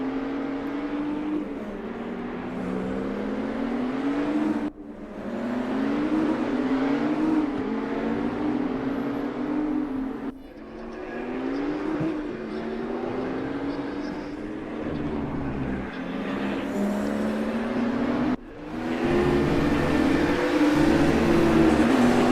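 Race cars in the PHSR Widowmaker Series pushed hard around a slippery track, engines droning and revving steadily in repeated surging passes, with commentary voices over them.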